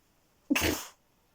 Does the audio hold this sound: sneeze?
yes